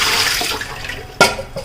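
Water runs steadily in a kitchen as a vessel fills, close and fairly loud, with a couple of sharp knocks and splashes near the end.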